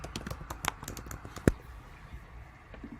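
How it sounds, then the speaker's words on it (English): Someone types on a computer keyboard, a quick burst of close, quiet key clicks early on ending in one sharper tap, then near silence. "I'm going to type in weekly planner."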